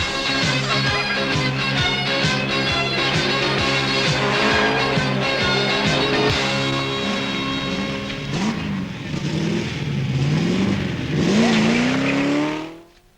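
A 1979 Triumph TR7 rally car races over tarmac and gravel, its engine revving hard through repeated gear changes and rising pitch sweeps, loud and close, ending in a long squeal before it cuts away.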